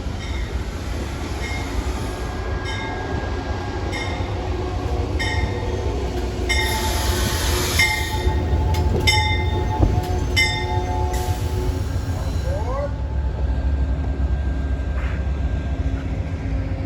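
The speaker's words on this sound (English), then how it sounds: "I think this is train 474 bound for Springfield" An Amtrak passenger train bound for Springfield rolls past at close range, steady rumble and clatter of wheels with clanking joints and brief metallic squeals, no voices.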